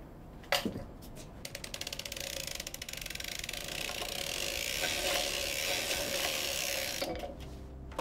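A circular sock knitting machine is cranked by hand, making a steady run of rapid mechanical clicks and whirring after a sharp knock, continuing evenly for several seconds with no talking.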